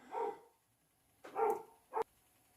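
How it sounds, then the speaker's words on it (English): A dog barks three times indoors, one bark, a pause, then two more close together, fairly near and alone without talk. "barks at anything she hears, and there she goes again"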